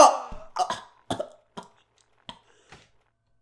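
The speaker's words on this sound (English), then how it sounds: "I don't know why I'm coughing" A person coughs in a rapid run of harsh bursts that grow fainter and more spaced out, then one more cough at the end.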